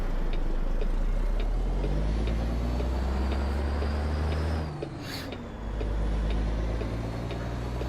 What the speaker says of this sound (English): Of course there's a car flying around the corner.